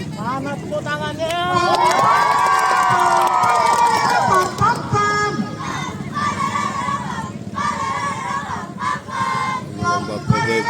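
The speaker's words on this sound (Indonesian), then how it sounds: "Mana tepuk tangannya?" A crowd at an outdoor marching competition held on a field in Pagar Dewa, Lampung, cheers and shouts continuously, with bursts of clapping and excited voices, a loud whistle-like cry rising above the noisy babble.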